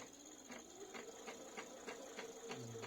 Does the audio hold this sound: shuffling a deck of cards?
no